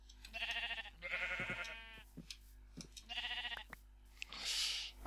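Several video game sheep bleats sound in a row, with brief pauses between them, fairly close and clear over a faint electronic hum.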